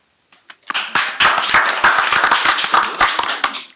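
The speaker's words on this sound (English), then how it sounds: "let's just give a round of applause to Charles Glenn." A St. Louis County Council meeting audience breaks into loud, close applause for a retiring blues vocalist, with a few scattered claps at first swelling quickly into sustained dense clapping.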